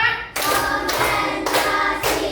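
A fifth-grade primary class claps together in time, giving four crisp, evenly spaced group claps that ring out close and loud in the classroom.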